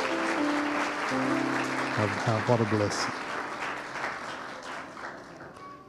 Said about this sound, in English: Give these folk on the platform a hand clap.